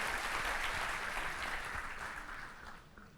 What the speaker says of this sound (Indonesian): Beri tepuk tangan yuk buat Tuhan kita Yesus Kristus.